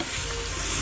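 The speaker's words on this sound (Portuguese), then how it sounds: "Os primeiros ingredientes vão para a panela." Ingredients fry in a pan in a resort kitchen in Zanzibar, giving a brief, steady, close sizzling hiss as they are stirred.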